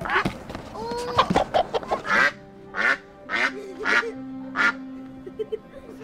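A Rouen duck quacks in a series of short, raspy calls at close range, mixed with clucking from hens nearby, while people talk intermittently.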